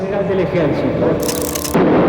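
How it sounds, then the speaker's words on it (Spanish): A military armored vehicle's cannon fires during an operation against rebel soldiers, sending heavy booming bursts through dense background noise, with a voice speaking beneath. "Siguen los disparos de la tanqueta."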